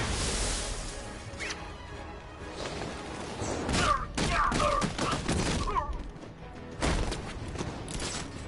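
Gunfire in Batman: Arkham Knight, bursts of shots and crashing impacts with whooshes in between, rising in intensity around the middle and again near the end, with no talking.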